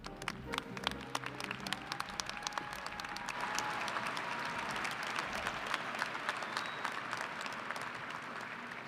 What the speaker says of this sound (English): give one last round of applause for our master's degree candidates